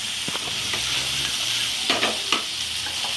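Potatoes and spices stir-fried on full flame for an omelette curry, a steady close sizzle with scraping and tapping from a spatula stirring the pan, no voices.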